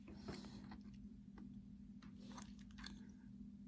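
Someone bites into and chews a crumbly Napoleon cake that breaks into many small pieces, producing soft, close, intermittent crumbly bites and squishy chewing sounds over a quiet background hum.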